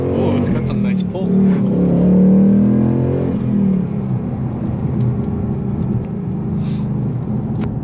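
A Ford Mustang GT pulls away on a short test drive with a loud, close engine roar that rises, then settles into a steady rumbling cruise as people talk over it.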